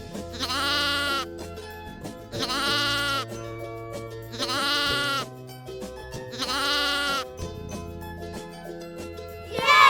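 Lamb bleating in four loud, drawn-out calls spaced evenly over steady background music, followed by a sharp sound at the very end.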